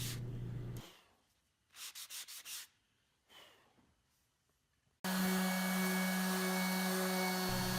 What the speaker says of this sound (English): I'm going to go ahead and get close to final sand on all of my surfaces